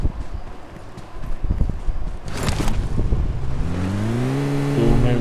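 Vehicle driving in PUBG Mobile, a rumbling engine with wind and road noise that rises into a revving whine toward the end, steady and close with no talk.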